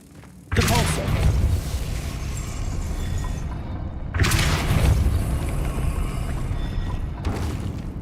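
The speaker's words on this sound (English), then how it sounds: "Depulso" A Depulso spell cast in the video game Hogwarts Legacy lands as a loud, booming thud with a blast-like rush that rings out, then a second similar boom follows about four seconds later.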